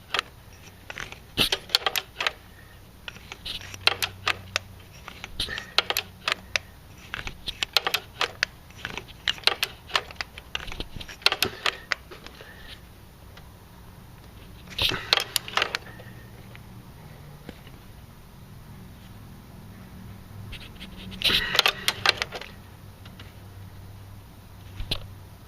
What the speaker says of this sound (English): I got the torque wrench on here now.